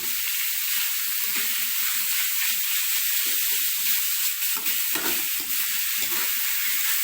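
Beans stir-fry with red curry paste in a pan, giving a steady, close sizzle throughout, with intermittent scraping and stirring sounds as the food is moved around.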